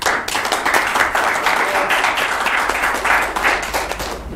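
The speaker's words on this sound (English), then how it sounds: "let's give a round of applause for Wulf." A conference audience applauds with dense, continuous clapping that stays loud and even for several seconds.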